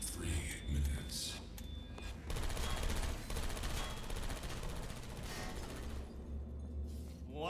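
Turrets fire bursts of automatic gunfire in the video game Portal Stories: Mel, with rapid rattling shots that fade in and out amid game noise, fairly quiet overall.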